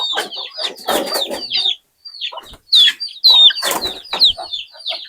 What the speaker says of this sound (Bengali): আমি মুরগিগুলো এইভাবেই ছেড়ে পালি।